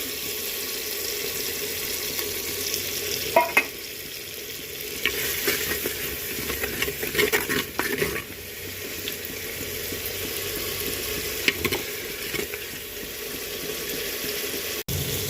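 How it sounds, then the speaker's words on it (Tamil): Tomatoes and onions with ginger garlic paste sautéing in a pan for a lentil dumpling gravy, giving a steady close sizzle with occasional stirring clinks and scrapes and no talking. "தக்காளியும் வெங்காயமும் நல்லா வதங்கிடுச்சு. இந்த டைமில் இஞ்சி பூண்டு பேஸ்ட் சேர்த்துப்போம்."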